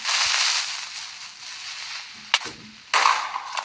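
A broad hissing blast fades away, followed by a sharp crack and another burst of hiss: a creeper explosion in Minecraft.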